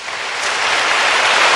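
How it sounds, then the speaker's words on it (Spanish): Audience applause for the Virgin Mary during a Catholic talk swells quickly from a light patter into a loud, dense roar of clapping that continues to the end. "Un aplauso a la Virgen María"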